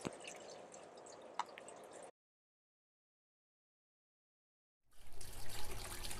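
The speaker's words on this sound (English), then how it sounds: "first thing you've got to do is wash off all that dirt" Water runs and drips over freshly harvested Oregon grape roots being rinsed of dirt, a steady trickle for about two seconds, then a gap of silence before louder splashing and gushing resumes.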